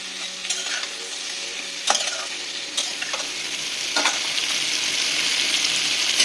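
Spices with salt and turmeric sauté in a pan for a ridge gourd and shrimp curry, making a continuous close sizzle broken by a few sharp stirring scrapes and taps.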